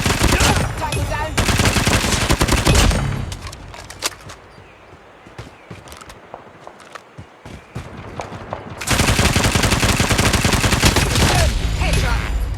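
BY15 shotgun fire in the Call of Duty Mobile video game, dense loud bursts of rapid blasts and clattering mechanisms, easing into sparser single shots midway before another heavy barrage.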